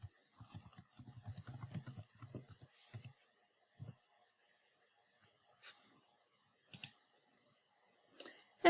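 Typing on a computer keyboard while logging in to an application page: quick bursts of close key clicks at first, then sparser single taps and clicks separated by pauses, with no talking.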